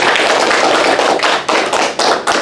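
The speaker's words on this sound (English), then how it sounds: "ladies and gentlemen, a round of applause for the candidates." A middle school audience applauds student council candidates at a presidential forum, a loud, steady wash of many hands clapping that swells and dips in short waves, with no talk over it.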